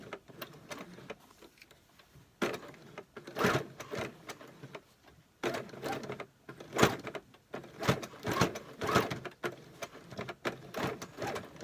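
A sewing machine stitches the waistband of trousers being altered from low-rise to high-rise, running in short, fairly quiet bursts of rapid mechanical whirring separated by pauses and small handling clicks.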